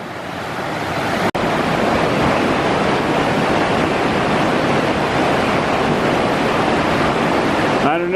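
Deep, fast-flowing water on the Walker River rushes in a loud, continuous roar close by, with wind buffeting the microphone.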